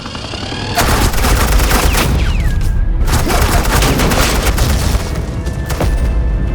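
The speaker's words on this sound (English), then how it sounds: "suppressing fire" Heavy suppressing gunfire in Batman: The Enemy Within, a loud, dense barrage of overlapping shots and booming impacts running almost continuously, close and intense, with a brief lull midway.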